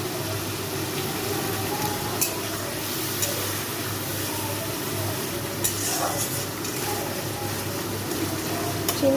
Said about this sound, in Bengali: আমার দেওয়া হয়ে গেছে, মশলাটা ভালো করে কষাতে হবে।